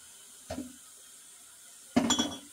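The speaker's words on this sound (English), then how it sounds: "Now these jars are clean. I'm just going to go ahead and fill them with warm water" Warm water splashes from a tap into clean glass canning jars for pickles in a home kitchen, two short separate bursts with glassy clinks, near and fairly quiet, no talk.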